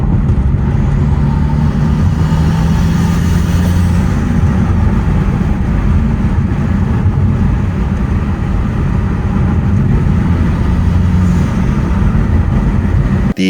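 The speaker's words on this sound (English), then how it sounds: "with the hood vent, there's more sound coming out of the engine from the intake, and it legit just sounds like a blow-off valve" Engine and intake noise from a BMW F30 335i fitted with a hood vent, a steady loud drone with low rumble filling the whole stretch, no voices.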